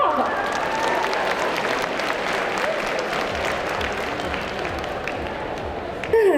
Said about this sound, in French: Applaudissez-la bien fort.